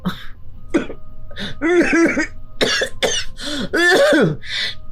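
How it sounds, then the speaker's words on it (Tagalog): A woman coughs and clears her throat in several short, rough bursts close by, loud and uneven across a few seconds. "Tingnan mo nga sa bibig ka na humihinga tapos inuubo ka pa."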